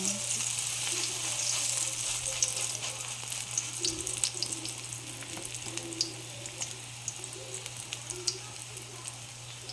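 Banana blossom frying in a hot pan, giving a loud, continuous close sizzle with crackling pops throughout.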